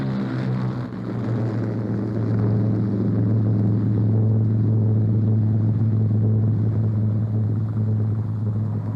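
An Air France Languedoc airliner drones with a steady, heavy engine rumble and a low throbbing hum that holds at a constant loud level, with no voices.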